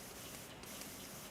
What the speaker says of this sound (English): So we're gonna spray the paint inlay